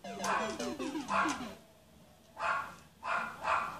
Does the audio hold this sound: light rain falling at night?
no